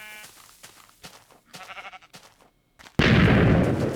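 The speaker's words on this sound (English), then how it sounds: "Get away, sheep! Save your life!" Sheep bleating in Minecraft Alpha, a few short bleats amid game noises, followed abruptly by a loud explosion blast that fills the end.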